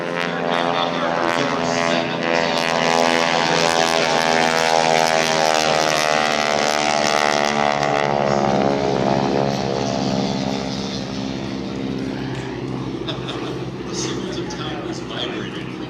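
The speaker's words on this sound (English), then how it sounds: "And Carter Teeters is going to be flying the Spitfire." A Supermarine Spitfire's propeller engine drones loudly and steadily overhead at an airshow, its harmonic roar holding strong before easing slightly as it passes.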